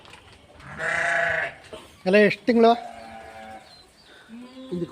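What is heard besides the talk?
sheep bleating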